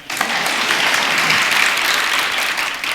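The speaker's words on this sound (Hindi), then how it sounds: "सही है तो ढंग से ताली बजा" An audience at a Hindi talk claps heartily on cue, a loud, thick and steady round of applause filling the room for about three seconds.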